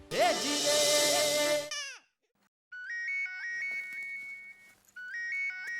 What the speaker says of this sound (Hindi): अरे बाघा, सेठ जी का फोन है।